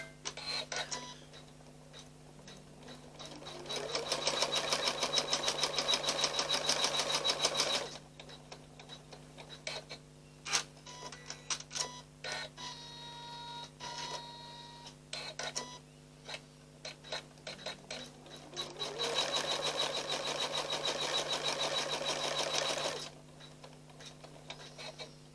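Embroidery machine stitching out a mug rug applique, running single run lines and then a satin cover stitch, with a steady mechanical ticking and whirring that swells into two longer dense bursts, alone with no talk.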